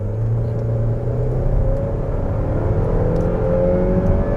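A base-model Saab 9-5 with the 220 hp engine pulling hard at full throttle, heard from inside as a loud, steady engine drone with rising harmonics over road rumble, with no talking.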